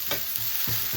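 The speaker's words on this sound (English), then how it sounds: "It's important when you're frying things like onions or" Onions and mushrooms frying on a griddle make a steady close hiss and sizzle, with a few soft scraping stirs of a utensil and no voices.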